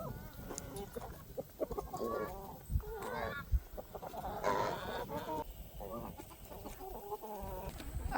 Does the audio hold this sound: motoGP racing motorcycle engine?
no